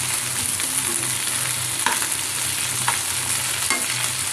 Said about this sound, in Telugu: ఇప్పుడు ఈ బెండకాయలు మొత్తం వేసేసుకోవాలి. ఇప్పుడు ఇది కూడా వేపుకోవాలి.